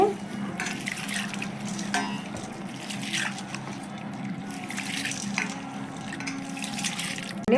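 Water swishes and splashes as soaked black-eyed peas are rinsed by hand in a bowl, a steady wet churning with intermittent trickles and clinks, no voices.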